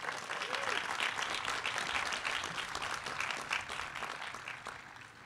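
Audience applause at a Kline Law School commencement, a dense, even wash of clapping from a large crowd that holds steady and fades slightly near the end.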